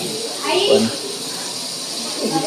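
Onions fry in a pan for a village-style Konkani chicken curry, giving a steady, soft sizzling hiss beneath a person talking.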